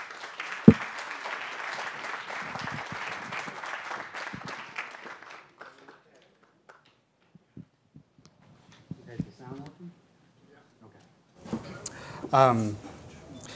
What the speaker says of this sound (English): please give a round of applause to James Martinez